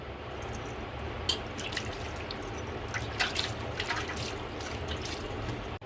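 Water runs and splashes continuously over cooked noodles being rinsed in a kitchen, a steady trickling wash with scattered brief drips and clinks, fairly quiet and with no one talking.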